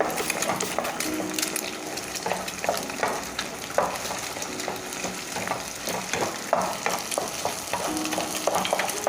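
Egg frying and stirred in a pan until crispy for a Thai chili-paste egg stir-fry, with a steady loud sizzle and frequent scraping and clinking of a spatula against the pan.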